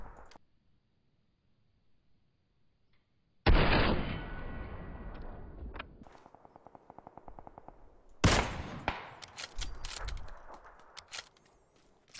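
Gunfire in the battle royale game PUBG: a single sharp shot, a pause, then a loud burst of rapid echoing fire that rattles off, followed by another heavy volley of shots with trailing echoes.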